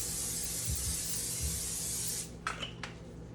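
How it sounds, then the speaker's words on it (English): Olive oil cooking spray hisses from a can in a kitchen while lasagna is being made, one steady two-second spray that cuts off abruptly, followed by faint clinks. "Then I'm gonna use a bit of my olive oil spray."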